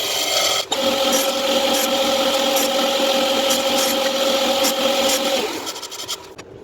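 Power saw cutting wooden blanks for a segmented plate, a loud steady whining buzz with a sustained tone that runs for about five seconds, then winds down and stops.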